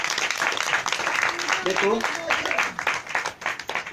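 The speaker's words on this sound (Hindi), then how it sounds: "तो आप लोग सभी अपने लिए ही ताली बजाइए बड़ी जोर से।" An audience at a new preaching center in Mohan Nagar claps loudly in a dense burst of applause, while a voice speaks briefly over it.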